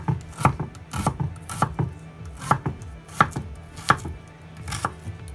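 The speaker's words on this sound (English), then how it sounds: "Over here, we have some onion, some red onion. Let's put some onion in here." A knife chops red onion on a cutting board in a steady run of about a dozen crisp, close knocks with brief scraping between them.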